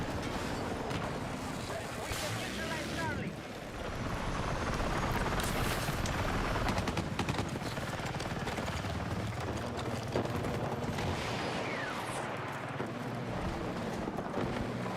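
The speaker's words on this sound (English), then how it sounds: "Enemy helicopter!" An enemy helicopter in a military video game thrums loudly and continuously, with rotor noise and wind-like rumble layered under gunfire-style bursts and voices calling out.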